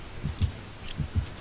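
Heartbeat in the Dead by Daylight horror game: two pairs of deep, thumping double beats in a steady lub-dub rhythm, loud and close, with a faint high tone between them.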